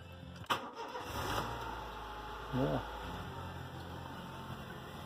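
A Honda car engine starting after an ignition switch repair: a short starter crank near the start, then the engine catching and settling into a steady low idle with a brief rise partway through, recorded fairly faintly.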